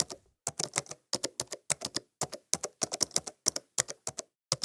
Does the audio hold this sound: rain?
no